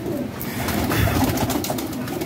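Pigeons coo softly amid steady ambient background noise, their low calls blending together without pause.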